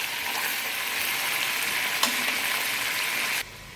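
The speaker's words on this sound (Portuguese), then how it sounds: "Enquanto o frango frita" Chicken sizzles loudly in a pan as it sears, a dense steady crackle with a faint clink partway through, before the frying sound abruptly drops away near the end.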